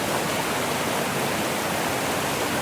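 A stream at Horse Cove Campground rushes steadily, a dense, even hiss of flowing water that fills the whole moment close and fairly loud, with no pauses and no voices.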